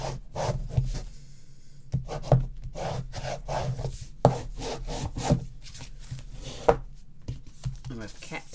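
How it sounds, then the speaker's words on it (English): A bone folder or similar tool rubs and burnishes paper down onto a scrapbook album page, giving soft scraping strokes in a loose rhythm beneath ongoing talk. "burnish that down."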